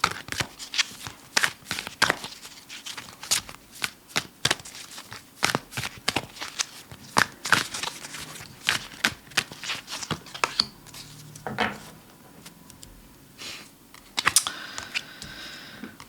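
A deck of oracle cards is shuffled close by, producing rapid irregular snapping and riffling clicks that run steadily throughout with a few heavier slaps near the end, and no talking.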